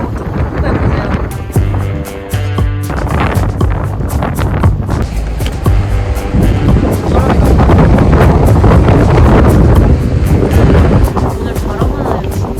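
Strong wind buffets the microphone by the sea, a constant loud roar with gusts and surf beneath, while a person speaks over it.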